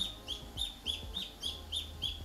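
Small ducklings peep in a steady run of high, repeated chirps, around three calls a second, heard fairly close over a low background hum.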